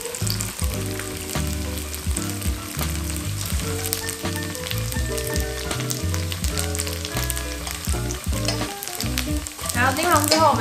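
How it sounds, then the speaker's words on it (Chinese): Dried tofu and fresh shiitake mushrooms sizzle loudly in a hot pan, frying steadily into golden pieces for a vegan fried noodle dish, with the scrape and clatter of stirring throughout and no voices. "我们就来开炒，先炒豆干跟鲜香菇"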